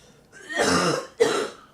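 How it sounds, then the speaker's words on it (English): Two short, raspy coughs close by, the second sharper than the first, with no talking. "Every time I laugh, I cough."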